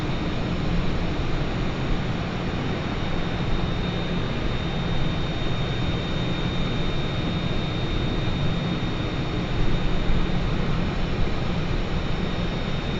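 Airliner engine in Microsoft Flight Simulator 2020 during a transatlantic flight, a steady broadband jet roar with a constant hum, unchanging in level for the whole stretch with no talk.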